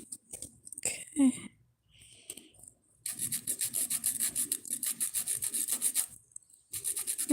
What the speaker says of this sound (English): I'm just sanding down the edges so that the edges are smooth